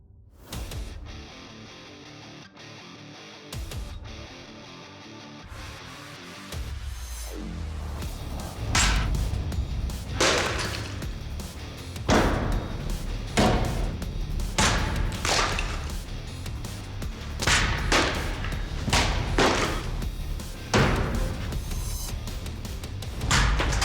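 A light, flexible forged war sword repeatedly chopping into a pot and post, roughly a dozen sharp, loud whooshing strikes and impacts in a steady irregular rhythm, each with a crashing thud, after a quieter start.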